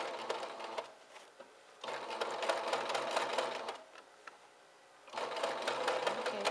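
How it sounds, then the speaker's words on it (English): A sewing machine running a straight stitch while making a pettiskirt, in three steady whirring bursts separated by short pauses, close and clear. "You can use a straight stitch, which I'm doing right now."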